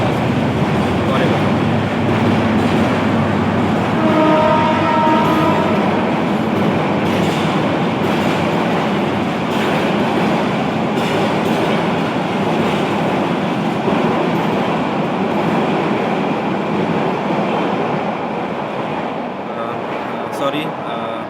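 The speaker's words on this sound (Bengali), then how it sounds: "ট্রেন যাচ্ছিল, আমি রেল লাইনের সাথেই একটা জায়গাতে বসে আছি" Train passing on a railway line close by, a loud continuous rumble with rhythmic wheel clatter and some squealing, lasting throughout while a voice speaks over it.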